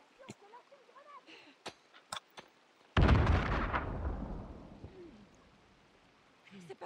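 Gunfire and explosions in a video game shooter: a few sharp isolated shots, then a sudden heavy blast that rumbles and slowly decays over several seconds, with scattered faint shots and brief murmured voices around it.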